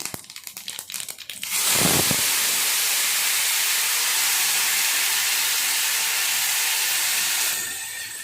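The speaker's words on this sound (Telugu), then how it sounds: "చూసారా ఆవాలు చిరపట్లు పడుతున్నాయి కదా." Mustard seeds spluttering in hot oil while tempering a horse gram rasam, with a loud steady sizzling hiss that bursts in after a short stretch of crackling and then holds through to the end.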